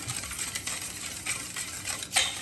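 A spoon stirring sugar into yogurt for dahi vada, steady soft scraping and clinking strokes against the bowl, close and fairly quiet, with no talking.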